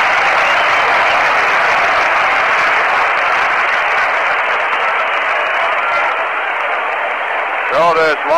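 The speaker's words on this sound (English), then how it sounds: "So this large crowd here in anticipation." A large baseball stadium crowd at a World Series-deciding game roars and applauds in a dense, steady wash of cheering throughout, with a radio-style announcer speaking over it near the end.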